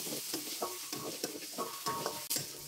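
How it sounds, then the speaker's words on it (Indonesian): Spice paste sautéing in cooking oil, a steady close sizzle broken by repeated scraping stirs at a loose, uneven rhythm, with no voices. "Selanjutnya tumis bumbunya dengan minyak goreng secukupnya. Tumis bumbunya sampai benar-benar matang dan harum."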